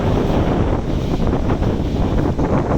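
Strong wind buffets the microphone on the deck of a cruise ship at sea in rough Bahamas weather, a loud, steady roar with low rumbling gusts throughout and no voices.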